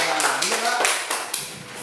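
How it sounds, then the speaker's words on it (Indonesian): Classroom pupils clap for a student group in a short, scattered burst of hand claps, with a teacher's voice speaking over and between the claps. "coba kasih tepuk tangan untuk kelompok cahaya"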